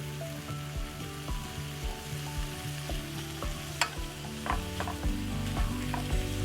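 Shrimp, sausage and garlic frying in a pan with pepper and onion, a dense, steady sizzle close up, broken by occasional scrapes and stirs and a brief sharp clink.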